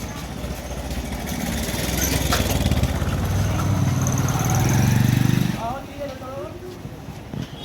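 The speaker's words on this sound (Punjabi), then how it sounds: "ਮੋਟਰਸਾਈਕਲ ਆਉਂਦੇ ਮੋਟਰਸਾਈਕਲ ਆਉਂਦੇ ਹਨਾ" Motorcycles roll through a narrow village lane, their engine rumble swelling over several seconds and cutting off abruptly, followed by quieter background with a voice.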